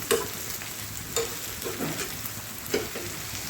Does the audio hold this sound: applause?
no